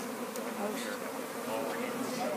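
Continuous droning buzz of a swarm of honey bees, steady and close, filling the air without pause.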